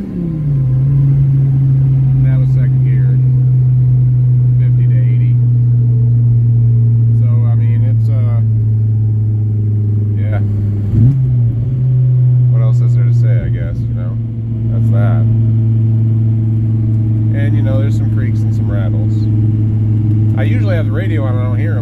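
A 1996 Dodge Viper GTS 650R engine drones loud and low as the car drives and picks up speed, a steady, deep rumble that holds throughout, with someone talking over it at intervals.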